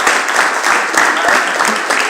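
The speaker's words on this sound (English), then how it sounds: "Y'all please give Norma a round of applause." An audience at a political campaign announcement applauds steadily, dense clapping filling the space throughout with a few voices mixed in.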